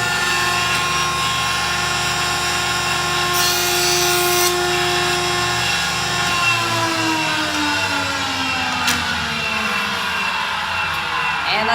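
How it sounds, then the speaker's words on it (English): A wood jointer runs steadily as a board edge is fed across its cutter to straighten it, a loud continuous machine whine and hum that shifts and drops in pitch partway through as the cut loads and winds down, with no talk. "Now we're going to go head on over to the joiner and get our edge to be nice and straight."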